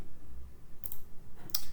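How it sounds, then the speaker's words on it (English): Two crisp mouse clicks on an on-screen button, close and sharp, separated by a short pause over a quiet room hum. "You can click this button"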